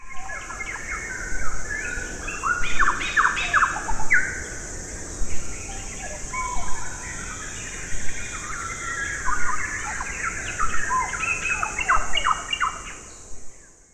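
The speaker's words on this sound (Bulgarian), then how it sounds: "Или пък шумът на гората." A forest sound effect played on an electronic keyboard, with bursts of chirping, tweeting birdsong over a constant high hiss, the calls coming in irregular clusters throughout without any speech.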